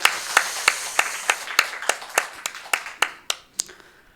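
Church congregation clapping together for the Hallelujah choir at a Sunday morning worship service, a steady rhythmic beat of claps roughly three per second, close and clear, fading out near the end.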